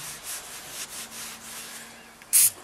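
Grease film being scrubbed off the back of a still-warm grill, a few quick rhythmic rubbing strokes at close range followed by a brief, sharper scrape near the end.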